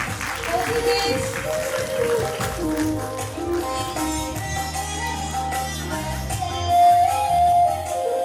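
Audience applause at a school annual function prize-giving, a steady wash of clapping running throughout with music and a voice over it.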